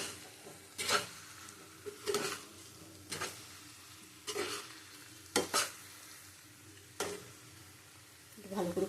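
Pumpkin, potato and pointed gourd curry with chana dal being stir-fried in a pan, with a soft background sizzle and about seven sharp spatula scrapes at a roughly regular pace, without speech.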